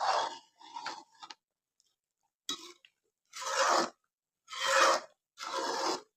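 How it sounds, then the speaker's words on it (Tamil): A spoon or spatula scrapes and stirs thick Tirunelveli halwa in a pan, in separate rasping strokes with short pauses, close and moderately loud. "நல்லா ஓரங்கள்லாம் எடுத்துக்கிட்டு கிண்டி விடுங்க"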